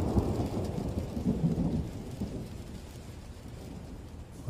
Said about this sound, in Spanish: Acá se está viniendo la tormenta